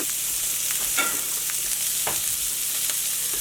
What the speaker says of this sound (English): we're going to bring in the raw onions and saute these just briefly